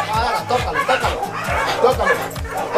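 An American Staffordshire Terrier, a purebred red nose, barks repeatedly in short rhythmic bursts close by, mixed with laughter and talk from people during a training session.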